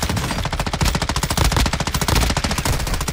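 Rapid bursts of automatic gunfire in the DMZ video game mode, loud and dense, firing continuously in sharp repeated cracks for the whole stretch with no talk over it.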